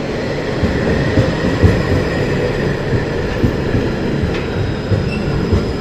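A Belgian metro tram runs through a bore-dug tunnel on a run-down system, giving a steady loud rumble with rail clatter and faint wheel squeal, heard close and continuous with no talk.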